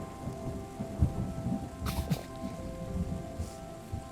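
Game ambience of steady rain with a distant roll of thunder in the terraforming game Terra Nil, a continuous soft patter with a brief crack of thunder near the middle.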